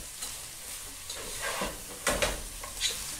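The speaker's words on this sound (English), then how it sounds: "I mixed everything together and then gave the dish about 2 minutes for the beef to warm up" Beef, spinach and spring onions stir-fried in a pan give a steady soft sizzle with intermittent scraping and stirring strokes, close and moderately loud, with no talking.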